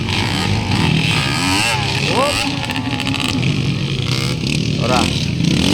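A motorcycle engine revs with rising and falling pitch sweeps at a Davao del Sur motocross event, loud and close, while a commentator talks over it throughout.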